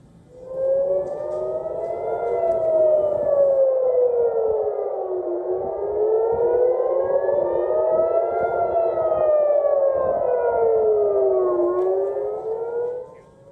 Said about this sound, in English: The incoming Houthi missile set off sirens over many areas across central Israel